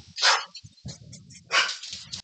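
A dog barks at someone at the door, two loud close bursts with a low growly grumble between them.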